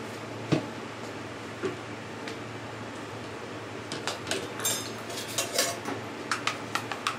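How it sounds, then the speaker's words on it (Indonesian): Utensil clinking against a bowl while stirring bingka ambon batter with milk powder, a few light scattered taps early, then a busier run of quick metallic scrapes and ticks toward the end, close and fairly quiet. "Jangan lupa diaduk-aduk."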